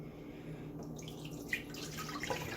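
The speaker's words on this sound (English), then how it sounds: "we have to pour out the vinegar" Vinegar pours out of a container during an egg osmosis experiment, a faint, steady trickle of liquid with a few soft splashes and drips near the end.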